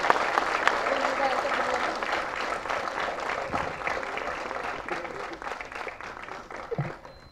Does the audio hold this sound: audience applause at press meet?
yes